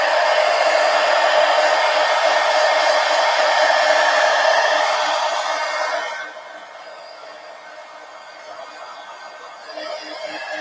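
A heat tool blows a steady, loud, high whooshing roar while drying a handmade paper card, running for about six seconds before dropping to a quieter hum, with no talk.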